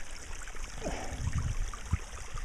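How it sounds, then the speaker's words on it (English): Water trickles and gurgles down an erosion gully, a faint, steady outdoor flow with a few soft splashes and knocks nearby. "the water just wants to run straight down this"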